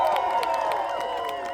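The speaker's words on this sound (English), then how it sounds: "so give yourselves a round of applause!" Festival crowd in Kentucky applauds and cheers, sustained clapping with raised voices and whoops layered over it, full and near.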